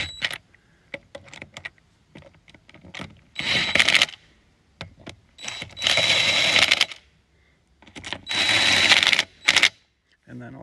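Lug nuts being tightened onto wheel spacers on a CFORCE 500 ATV, with 10-1.25mm threaded studs: scattered metallic clicks, then three longer bursts of ratcheting, close and fairly loud, with brief pauses between.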